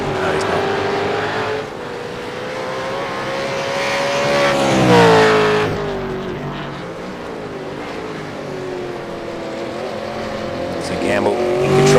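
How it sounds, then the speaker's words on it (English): V8 race cars including a Ford Mustang racing at Zolder, engines rising and falling in pitch as they pass, loud and near, with commentary talking over them. "What can he do here with this pressure forming behind from the Ford Mustang of Tim Betts?"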